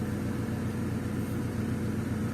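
Honda Civic EG with a D15B engine idling steadily with the headlight on, a low, even, continuous hum heard alone and fairly faint, with no change in rhythm.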